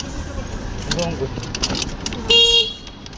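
A vehicle horn gives one short, loud honk close by, rising over busy street noise where cars, motorcycles and motor rickshaws pass, with voices talking in the background.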